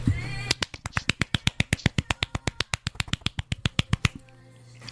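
A person's hands clap rapidly to imitate a sound, about two dozen sharp, evenly spaced claps in quick succession, close and crisp, with a brief quiet before and after.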